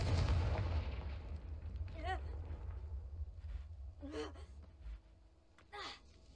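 A Confringo fire spell explodes in Hogwarts Legacy, opening with a deep rumbling blast that fades into low background game sound, with a few short airy whooshes after it.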